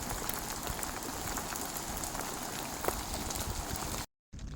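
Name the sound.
hail and rain falling on a tent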